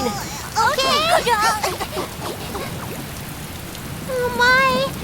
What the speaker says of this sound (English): Oh my, it's raining so heavily.